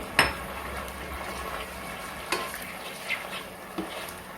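Liquid is poured into a pan of frying chilli potatoes, giving a soft continuous sizzle and wet bubbling, with a sharp clink at the start and a few later utensil taps against the pan.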